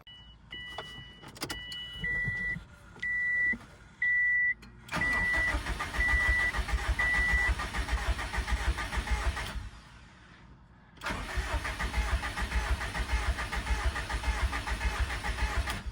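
A 2007 Subaru WRX with an STI turbo, intercooler off and mass airflow sensor unplugged, cranks over without starting to prime the turbo with oil. A few chime beeps come first, then two long, steady cranking bursts with a short pause between them.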